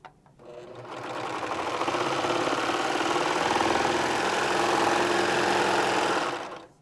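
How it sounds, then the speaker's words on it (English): A Baby Lock Victory serger runs steadily through sweatshirt knit fabric, producing a loud, continuous mechanical whir with a fast, even stitching rhythm that starts up, holds for several seconds and then stops. "Perfect stitch every single time."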